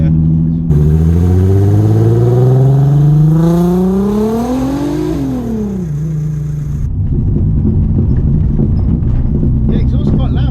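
A NASCAR-engined car's exhaust roars loudly and steadily, its pitch climbing as it accelerates before settling into a deep, rough, throbbing rumble, with no talk over it.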